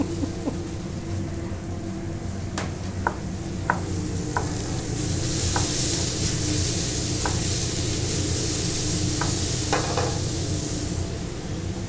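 Tomatoes hit a hot pan of tender vegetables and sizzle steadily under a broad hiss, with occasional sharp clinks of a utensil stirring against the pan; no one speaks.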